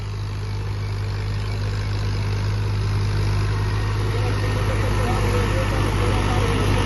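A farm tractor idles steadily in the countryside with a constant low rumble and hum that stays level throughout, close and fairly loud, while people talk faintly alongside.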